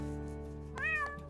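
A cartoon cat from a Bob the Builder children's animation gives one short, rising-and-falling meow over a steady musical background.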